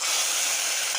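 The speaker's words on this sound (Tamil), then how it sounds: "தாளிச்சதை ஊற்றிக்கலாம்." Mustard seeds and curry leaves, hot-tempered in oil, are poured sizzling into an anchovy aviyal, giving a steady, loud broadband hiss that runs unbroken throughout.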